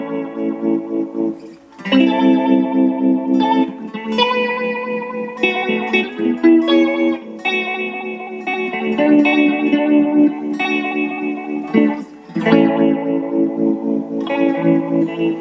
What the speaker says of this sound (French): c'est comme si le côté chorus ressortait un petit peu plus que le côté trémolo